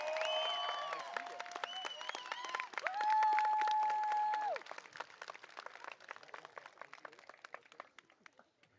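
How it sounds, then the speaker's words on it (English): A crowd at the Bucktail High School Class of 2026 graduation ceremony claps for the graduates, with loud cheers and drawn-out whoops over the clatter of hands early on, then the clapping thins and tapers off. "One more big round of applause for the graduating class of 2026."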